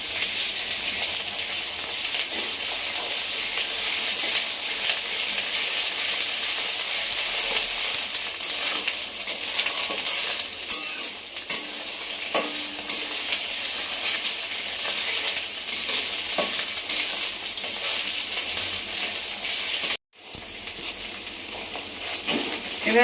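Ginger-cumin paste sizzles steadily with onion in a pan, a continuous loud frying hiss with faint stirring scrapes and a brief drop to near silence toward the end.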